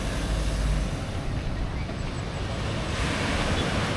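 Ocean surf breaking steadily along a rocky shore on a coastal road trip in Aurora or Quezon, a continuous loud wash of waves with wind buffeting the microphone throughout.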